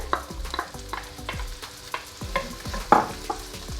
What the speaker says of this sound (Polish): I to razem podsmażamy, aż aż kiełbaska się trochę zarumieni.